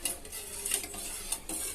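Pepper rasam being stirred in a pot on the stove, a spoon scraping and swishing with light sizzling, soft and close, with no talking.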